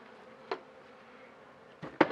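Honey bees buzz around an open, double-deep beehive during an inspection, a soft close hum broken by a few brief louder passes near the microphone.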